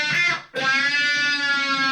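An electric guitar lick from a country rock song played through a wah pedal, with a short note followed by a brief gap and then a long, bright, ringing sustained tone, close and loud with no talking.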